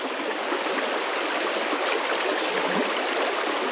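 Flowing water of Badger Creek, a steady close rushing and babbling wash of moving water that fills the clip evenly from start to finish without voices.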